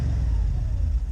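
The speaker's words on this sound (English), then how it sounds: "I'm going to have one more exhaust rev done so y'all can hear this on camera" An Audi S6 with a 4.0 V8 revs its stock exhaust, giving a very quiet, deep low rumble heard close and steady for a brief moment.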